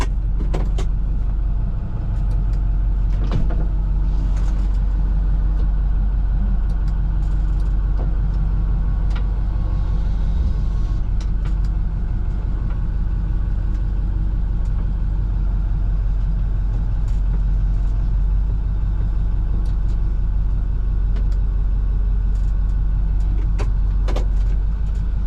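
Inside the cab of a 2014 International Terrastar liquid deicing truck with an aluminum body, the engine idles with a steady low rumble, close and continuous, with a few faint clicks and rattles and no talk.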